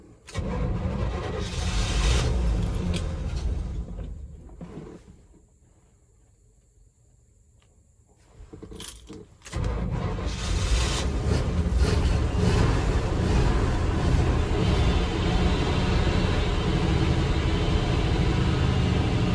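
A 1988 Chevy R30 engine cold-starting after sitting for a year on old gas: loud cranking and rumbling, a brief drop to a quieter idle, then the motor catches and roars steadily at high revs, close and alone.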